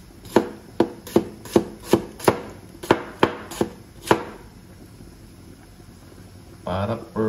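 A knife chops onion on a board for smoked etag guisado, about eleven sharp, evenly spaced knocks up close, followed by silence and a short burst of rustling at the end.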